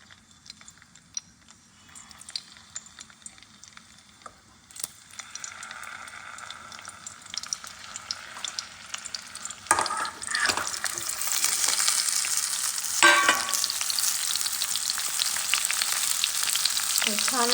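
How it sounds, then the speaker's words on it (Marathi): Masala-stuffed brinjals dropped into hot oil, a soft crackle that swells into loud, dense frying sizzle with bursts of spattering as the pieces settle in the pan. "आता आहे ना हे वांगे ना मी मस्त अशी तेल गरम केलंय आणि मस्त तेलात सोडणार आहे असे."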